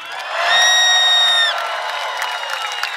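An amphitheatre concert audience cheers a rap crew at a live show, with sustained high screams that swell loudly for about a second, then settle into steady whooping, shouting and scattered applause.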